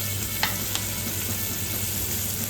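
Steady, close sizzling of a veal chop frying in a hot pan, a continuous crackling hiss with a couple of faint clicks.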